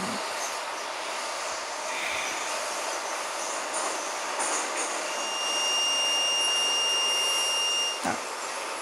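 An 81-717 metro train runs through a tunnel between stations in Minsk, a loud steady roar of wheels and rails with thin high-pitched squeals rising in the later seconds and a brief clunk near the end.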